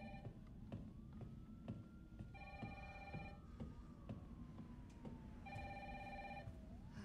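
An old-style telephone bell ringing in Resident Evil 3 on PC, with two distinct ring bursts about three seconds apart over a low ambient rumble, while a faint siren-like tone wavers in the background.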